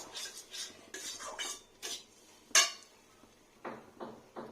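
Semolina dry-roasting in a pan while a metal spoon stirs and scrapes, giving several irregular scraping bursts with one sharp clink, close and clear, with no voices.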